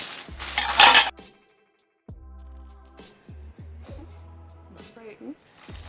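Small metal baking pans, a set of five tiny ones, clink and clatter as they are unboxed. Bursts of metallic knocks and rustling come between quiet gaps, close by, with a voice heard now and then.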